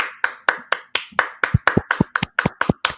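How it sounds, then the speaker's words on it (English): Applause for a show guest arriving on stage, heard as a dozen evenly spaced, sharp claps in a steady rhythm, close and loud with no voices. "Round of applause."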